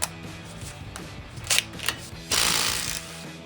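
A 15 mm socket and ratchet work loose the center axle nut on a 2009-2020 Ford F-150 during a control arm install, heard as short metallic clicks and rattles followed by a longer grinding burst near the end.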